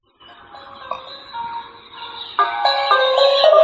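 A homemade DIY mini amplifier with a small PCB plays music from a phone, giving a bright, tonal electronic melody that starts quietly and grows louder and denser toward the end, with no talking.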